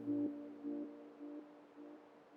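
Synth notes with a worn tape wow and flutter effect, four soft sustained tones that waver slightly in pitch, repeating at an even pace, quiet and alone.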